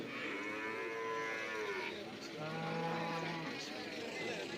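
Buffaloes and cows moo in long, drawn-out calls, one after another, with a lower bellow joining in amid a murmuring cattle market background.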